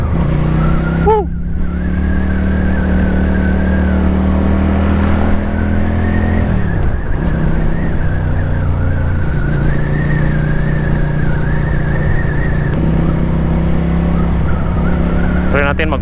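QJMotor SRK 400 or SRV 400 motorcycle engine heard while riding, a steady loud drone that dips briefly near the middle and then settles back, with a rider talking intermittently over it.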